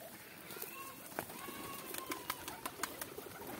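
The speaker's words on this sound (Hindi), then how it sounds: "कैसे कबूतर खा रहे हैं" Pigeons feeding on scattered wheat grain: soft pecking taps, light scuffling and occasional wing flutters close by, with faint coos under a low background.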